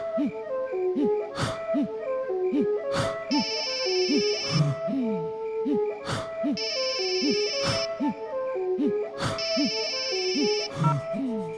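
A phone rings on an outgoing call as a repeating melodic ringtone with a rhythmic, plucky pattern and bright chime bursts that cycle about every three seconds, moderately loud and continuous.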